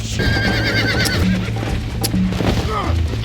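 Horse in the Red Dead Redemption video game neighing with a wavering, high whinny early on, followed by hoof clip-clops and game background sounds, with a voice speaking over it.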